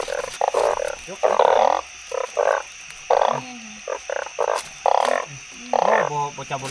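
Frogs croak loudly and close in repeated short bursts, a steady chorus of pulses through the whole stretch during a nighttime frog hunt, with no talk.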